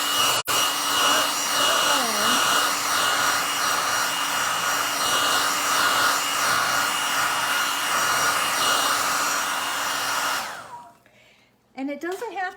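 A hair dryer blows a steady, loud whooshing roar over fresh paint on a galvanized milk can, running nonstop for about ten seconds before switching off, followed by faint rustling and a short high voice.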